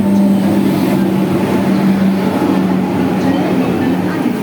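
A 15-car local commuter train rumbles steadily at platform 6 of a station, a loud continuous mechanical drone with a low hum throughout.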